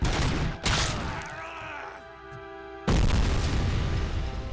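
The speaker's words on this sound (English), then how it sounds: "Stop throwing grenades!" Grenades burst in RoboCop: Rogue City as loud, deep booms, one near the start and another heavy blast about two-thirds through, with a low rumble and lingering tonal hum in between.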